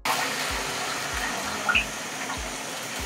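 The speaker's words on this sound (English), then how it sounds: "So I'm just going to add water to it." Water poured into a soup pot in a home kitchen, a steady splashing and running flow that carries through the whole moment with a brief louder gurgle midway, close and alone with no talk.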